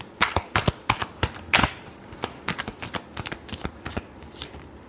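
Tarot cards being shuffled during a love reading, a run of crisp riffling bursts and flicks in uneven rhythm, close and fairly loud, with no talking.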